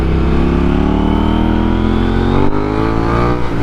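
A KTM Duke 890R motorcycle engine revs hard and climbs steadily in pitch during a wheelie, loud and close, with a brief dip near the end and no talk.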